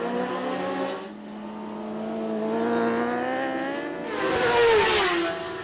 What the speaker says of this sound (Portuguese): É a Honda CBR1000RR do Maico Teixeira. Tá lá fazendo a curva no final da reta da arquibancada